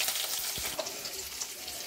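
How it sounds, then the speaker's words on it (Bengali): Chopped onion sizzles in a kadai alongside garlic, a short, continuous crackling fry heard up close with a faint scrape of stirring and no voices. "পেঁয়াজটা ভাজা হচ্ছে,"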